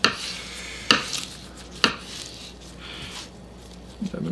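A knife slices through leaves on a cutting board while preparing a whole wheat vegan pizza: a few sharp, close chops spaced about a second apart, then softer scraping and handling sounds.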